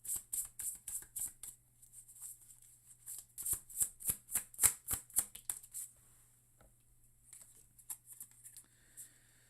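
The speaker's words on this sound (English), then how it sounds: "let's go ahead and pull another card" A deck of tarot cards is shuffled close up, with quick riffling flutters in bursts, a pause, then more rapid snapping passes and a few scattered soft taps.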